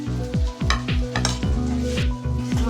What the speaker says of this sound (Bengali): ভালো করে মশলাটাকে নাড়াচাড়া করে নিব